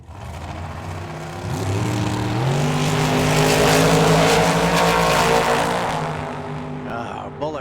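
A Camaro door car launches down the drag strip at the Hangover Nationals, its engine roar swelling loud with pitch climbing through the run, then tapering off as the car pulls away.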